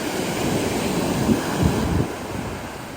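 Big sea waves roll in at Alappuzha beach, a loud steady surf roar with wind buffeting the microphone and a swell as a wave breaks, no speech.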